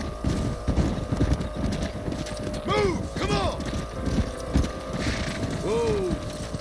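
Horses' hooves clop in a dense, steady rhythm in the video game Red Dead Redemption, with whinnies, creaking tack and rattling gear mixed in, close and continuous.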